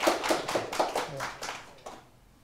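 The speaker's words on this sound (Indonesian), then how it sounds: "Tepuk tangan yang meriah dulu untuk e-voucher." A small audience at a startup talk event claps for an e-voucher company: a short burst of distinct, fairly close claps, thinning out and fading within about two seconds.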